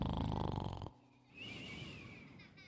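A person imitates snoring with the voice, a long rasping inhaled snore followed by a quieter wheezing, whistling breath, close and alone without words.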